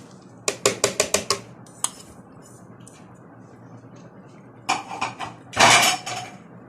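A knife chops onion, parsley, green pepper and garlic on a board: a fast run of six sharp close knocks, a lone stroke, then a cluster of chops and a harsher scraping rustle near the end.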